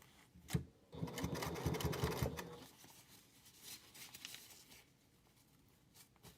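A sewing machine runs in a steady burst of rapid stitching for about two seconds while sewing down the folded side of a fabric packing cube, then falls to quieter handling and faint mechanism noise.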